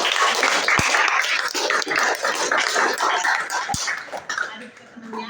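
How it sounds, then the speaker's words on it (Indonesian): Classroom of children clapping for a group during a school lesson, dense lively applause with a couple of sharp knocks, fading toward the end. "tepuk tangan buat kelompok 2"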